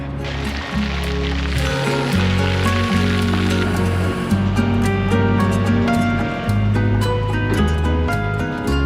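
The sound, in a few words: rain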